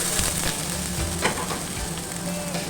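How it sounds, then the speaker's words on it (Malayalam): Onions hit hot oil in a frying pan while cooking goat tripe, giving a steady, close sizzle with faint stirring, and no voices. "നല്ലോണം ഒന്ന് മൂത്ത് വന്നതിന് ശേഷം അതിലേക്ക് സവാള ഇട്ട്"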